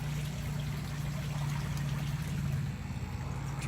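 Steady rushing water roars continuously, a dense, unbroken splashing like a waterfall close by, with no pauses or voices.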